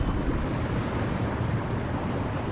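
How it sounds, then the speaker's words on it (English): Ocean waves crash and wash in a video game seascape, a dense, steady roar of surf with a windy hiss, loud and continuous without any voices. "Waves are crashing."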